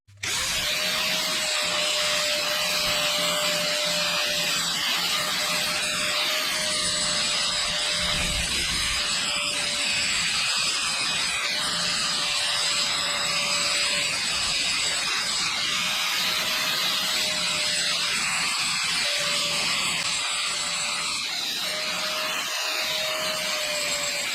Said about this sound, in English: I'm just going to grind it off a bit and see whether I can get it off without making the spline even worse.